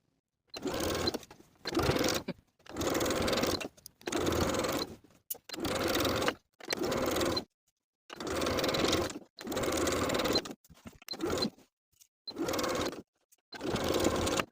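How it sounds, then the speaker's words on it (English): A sewing machine stitches around the waistband of a denim skirt in repeated bursts of a few seconds each, starting and stopping with brief silent gaps between runs, close and clear with no talk. "Then stitch in the ditch of the main seam from the outside all the way around the waistband"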